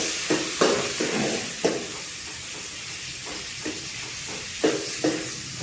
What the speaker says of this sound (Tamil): நல்லா கோல்டு கலர் வர வரைக்கும் வதக்கணும்